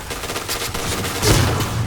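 Saiga shotgun fire in the shooter game Point Blank: a short burst of loud gunfire with a heavier blast near the end, close and harsh, with no talk.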